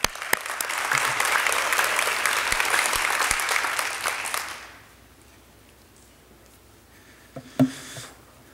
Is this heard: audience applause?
yes